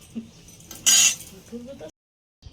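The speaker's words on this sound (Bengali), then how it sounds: "কড়াইটা চাপিয়ে দিচ্ছি" A wok is set down on a stove with a single short metallic clank among quieter kitchen clatter, followed by a brief silence.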